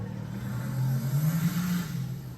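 A car engine revs in low, rumbling surges that build and fall over a couple of seconds, loud and close with no talking.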